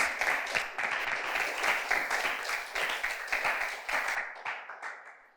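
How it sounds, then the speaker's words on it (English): A round of applause from an audience at an inter-secondary school debate, many hands clapping steadily at moderate volume before tapering off and fading out near the end. "a round of applause for our esteemed teams."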